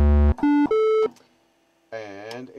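Korg MS-20 synthesizer oscillator 2 playing a plain 50% square wave at 16 feet, a few short buzzy sustained tones stepping upward, then a pause and speech.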